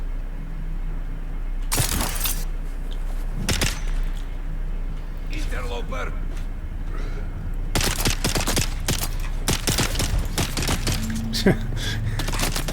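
Gunfire in the video game Dune Awakening comes in loud, sharp bursts and scattered single shots with clattering impacts, close and punchy, with a voice talking in between.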